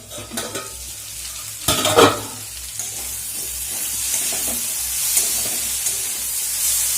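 Vegetables sizzle steadily in a hot pan while a spoon scrapes and stirs, with a louder clatter near the start before the frying settles into a constant hiss.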